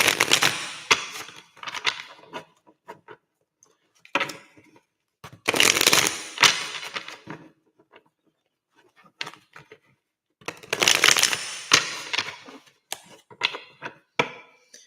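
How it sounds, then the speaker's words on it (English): A tarot deck is shuffled by hand in several bursts of crisp riffling and flicking, close and clear, separated by short quiet pauses, with light tapping and card handling in between. "Let's shuffle up this deck."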